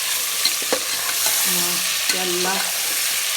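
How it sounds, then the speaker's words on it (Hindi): Potatoes and meat fry in a pot while a spoon stirs them, giving a steady close sizzle with scraping knocks, a few brief tonal clinks, and one short spoken word over the cooking. "हमारा आलू और गोश्त अच्छे से फ्राई हो चुका है"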